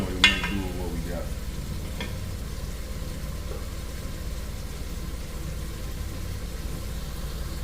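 Beef tips fry in a pan for beef tips and quinoa, with a steady close sizzle throughout and a brief stirring clatter near the start.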